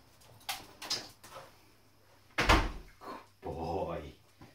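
A Lhasa Apso pushes a door shut at home, making one solid thump midway through. Lighter knocks and bumps come before it, and a person speaks quietly around the sounds.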